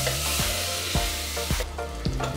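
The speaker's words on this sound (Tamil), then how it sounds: "கட் பண்ணி வச்சுருக்க மீடியம் சைஸ் ரெண்டு ஆனியனை இதில் ஆட் பண்ணிக்கோங்க." Onions frying with ginger garlic paste for a Chettinad chicken gravy give a loud, dense sizzle close up, broken by a few rhythmic spoon strokes against the pan, with no talking.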